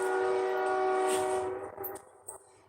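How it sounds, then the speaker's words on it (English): A train passes outside an open window, a sustained loud horn-like tonal drone with rumble that fades after about a second and a half, leaving quieter rail noise and a few faint knocks. "I never noticed a train until I opened up my window."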